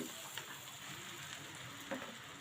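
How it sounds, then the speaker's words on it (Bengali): Onion frying in oil for a hilsa fish curry, a faint steady sizzle with a couple of soft stirring scrapes, heard alone without talk. "পেঁয়াজটাকে ভেজে নিচ্ছি।"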